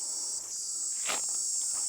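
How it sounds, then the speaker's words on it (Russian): Loud cicadas droning in a steady high-pitched shrill at Angkor, continuous throughout, with a brief rustle or footstep near the middle. "Слышите, цикады какие громкие"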